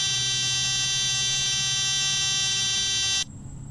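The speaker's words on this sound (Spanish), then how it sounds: "Esa es la alarma de tren que suena." The landing gear warning alarm in Microsoft Flight Simulator X blares as a continuous high-pitched buzzing tone over a steady engine drone, then cuts off abruptly, leaving only the cockpit engine hum.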